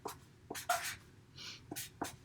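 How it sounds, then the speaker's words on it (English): Pen or pencil scratching across a sheet of paper during a third-grade Spanish lesson, several short close strokes in quick bursts with brief pauses between them, no talking. "we're going to write"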